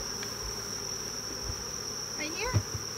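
Honey bees buzz around a honey super, a steady insect drone with a few louder passes flying close near the end, no voices.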